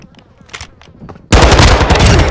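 Call of Duty: Modern Warfare 2 team deathmatch firefight: after a second of quiet with faint distant pops, a loud, close, sustained burst of automatic gunfire starts suddenly and keeps rattling to the end.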